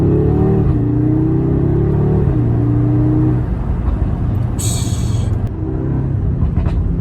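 A 2022 Audi S3 Sportback with all-wheel drive pulls hard after a downshift, its exhaust droning loud and close as the engine note climbs, drops at the shift, then builds again, with a brief crackle partway through.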